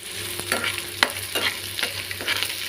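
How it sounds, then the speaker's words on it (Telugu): Capsicum and cabbage fry in a pan for a vegetable soup, making a steady sizzle broken by repeated scraping stirs of a spoon. "ఈ వెజిటేబుల్స్ మొత్తం ఫ్రై అయ్యే వరకు వేసుకున్నాను"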